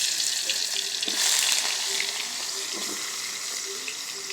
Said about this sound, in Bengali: আমার তেল গরম হয়ে গেছে এখন আমি কাঁচা কলা আর পটলটা ভাজে নিব আগে